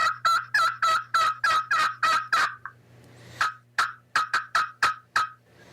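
A slate turkey call worked with a hickory striker imitates an excited turkey: a fast series of about seven loud, sharp clucks and yelps, a short pause, then another rapid burst of similar calls, close and clear with no talking.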